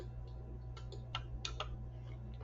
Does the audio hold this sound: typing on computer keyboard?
yes